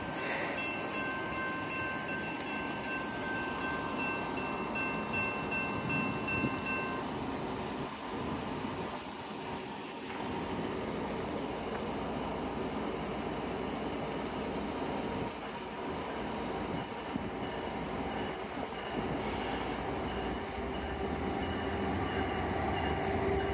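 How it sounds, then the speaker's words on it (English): CSX freight train passing, a long steady rumble and rolling rail noise that fills the whole stretch, with a brief horn-like tone near the start and no talking. "All aboard the CSX Railroad!"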